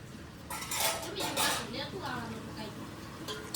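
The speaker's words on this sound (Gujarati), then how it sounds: "આ બાજુ તો વાસણ ધોવાય છે" Dishes being washed nearby, with clattering pots and clinking utensils in a muffled, uneven stream and a faint voice in the background.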